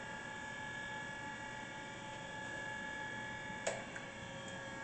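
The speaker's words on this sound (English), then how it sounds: "This is our 612 Mitsui hand feed ball roller grinder." A Mitsui MSG-200 MH hand feed ball roller surface grinder, a 6 by 12 inch machine, runs its spindle with a quiet, steady whine and hum. A faint click sounds near the end.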